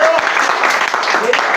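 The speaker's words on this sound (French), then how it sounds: "Est-ce qu'on peut encore acclamer pour le Seigneur?" Church congregation applauding and cheering for the Lord, a dense, loud wash of clapping with voices shouting over it.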